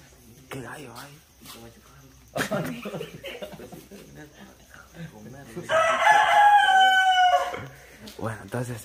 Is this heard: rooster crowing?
yes